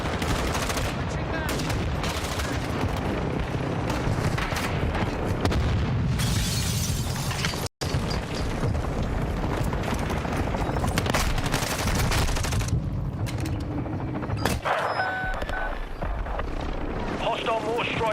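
Mortar strike explosions boom amid bursts of gunfire in the Call of Duty Warzone battle royale game, loud heavy blasts with a helicopter-like drone, while players talk over the chaos.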